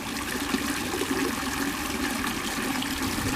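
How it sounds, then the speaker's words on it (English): Water pours steadily from a fountain at a harbor-side market square in Hakodate, a continuous broad rushing and splashing with no break and no voices. "Just listen to that sound of flowing water."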